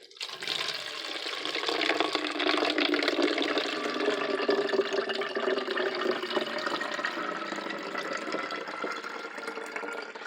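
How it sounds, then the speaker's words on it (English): Rice water pours steadily from a container into a spray bottle, a continuous splashing liquid stream running for about ten seconds without talk. "I'm going to transfer the rice water into my spray bottle."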